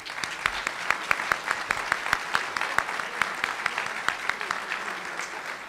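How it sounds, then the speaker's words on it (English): Scattered, moderately loud audience clapping at the Wings Club for Pierre Beaudoin, with distinct individual claps popping out in a loose, uneven rhythm over a softer crowd patter. "could we please have one more round of applause?"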